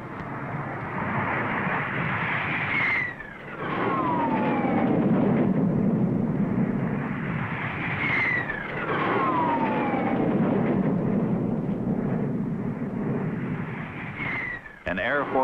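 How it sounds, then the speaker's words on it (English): Military jet aircraft roar past over a race speedway in repeated waves, each swelling loud then fading with a falling whine, one after another overhead. "An Air Force salute of speed booming across 450 acres."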